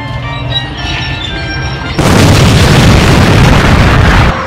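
An aerosol can of Lysol with a dab of Tabasco bursts like a firework: after a quieter start, a sudden loud blast erupts into a roaring, broadband rush that lasts about two seconds before cutting off.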